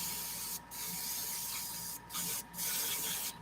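Aerosol spray bursts of Vallejo Mecha varnish onto miniatures, three short hissing sprays heard up close against a quiet room background, each lasting under a second.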